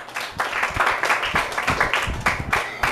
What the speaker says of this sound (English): A round of applause to our third speaker, John Marie Nazareno.